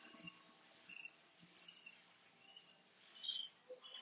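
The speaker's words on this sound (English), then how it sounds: "hello to the birds" Morning birds chirp in short, bright bursts that repeat every half second or so, faint and somewhat distant over quiet background hiss.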